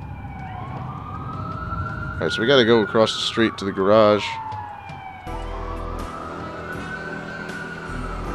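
Emergency vehicle sirens in the video game Watch Dogs, wailing police-style tones rising and falling steadily across the whole stretch, mid-distance, with someone talking over them partway through.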